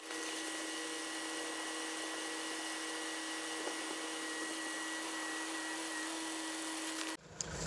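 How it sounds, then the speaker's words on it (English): A Kubota L4701 tractor with a BH92 backhoe hums steadily as its boom moves back hydraulically, a constant mid-pitched whine under a nearby engine drone that cuts off abruptly near the end. "so I'm now bringing the boom back to its original position"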